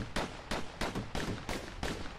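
Dual slinger pistols in the Bastion video game fire in a fast volley of about seven sharp, loud shots at a quick, slightly uneven rhythm, with no talk over them.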